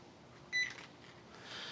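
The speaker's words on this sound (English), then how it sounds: "Beeping is going crazy." A meat thermometer during a smoked beer can chicken cook on a 22-inch Weber kettle, one short, bright electronic beep, close and clear, followed by faint background noise.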